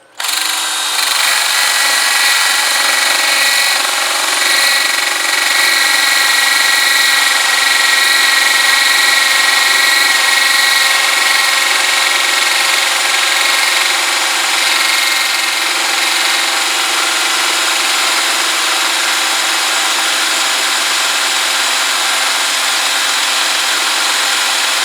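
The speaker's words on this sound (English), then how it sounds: "I want to drill in a bit more if I can" A power drill bores into a Kawasaki BN125 Eliminator engine part under repair, one long loud continuous whine that starts abruptly and holds steady, very close, with no talk.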